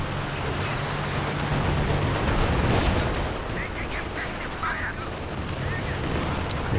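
Katyusha rocket barrage in Company of Heroes 2, a dense sustained crackle of rapid launches and impacts rolling on for several seconds, loud and continuous with faint talk mixed in.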